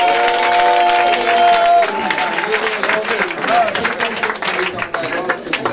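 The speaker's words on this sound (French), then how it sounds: "Est-ce qu'on peut acclamer Jésus-Christ?" A church congregation applauding and cheering for Jesus Christ during a deliverance service, steady loud clapping and shouts filling the room, with voices calling out over it.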